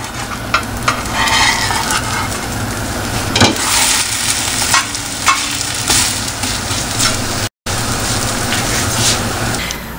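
Bun kabab patty frying in a pan, a loud, continuous sizzle and crackle with scattered sharp pops and scraping stirs, plus a brief dropout near the end.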